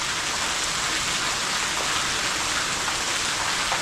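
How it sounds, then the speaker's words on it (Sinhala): Steady, heavy rain pours down near a large waterfall on the Sri Pada trail in the off season, a dense, loud, even hiss that fills the whole moment with no voices. "වහිනවා. තේමෙනවා."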